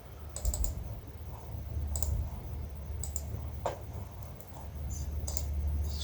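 Computer mouse clicks while importing video clips into Filmora, sharp close clicks spaced irregularly over a low steady hum, with no talking.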